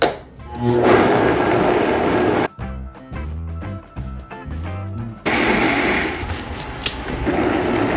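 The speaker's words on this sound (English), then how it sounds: "Then we're just gonna blend until smooth." Countertop blender whirring salt and ground cumin into a smooth mix, a loud motor roar that cuts out briefly into clattering and thumping, then restarts strongly.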